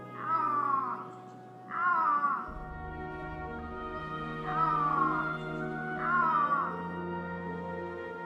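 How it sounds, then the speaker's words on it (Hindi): An Iberian lynx's repeated drawn-out yowling calls, four of them spaced a second or two apart, over a low steady hum. "दुनिया की सबसे डरावनी बिल्ली आइबेरियन लिंक्स की दहाड़ एक दहशत पैदा करती है"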